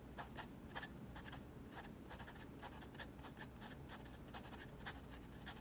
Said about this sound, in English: I'm not sure if you could hear the pen writing